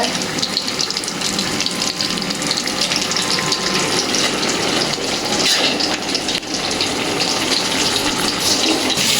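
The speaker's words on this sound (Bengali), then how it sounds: "এইদিকে মাছ ভাজা হচ্ছে।" Tilapia fish frying in a pan for a home-cooked tomato bhuna, giving a steady, dense hiss and crackle that runs unbroken and fairly loud from start to end, with no talking.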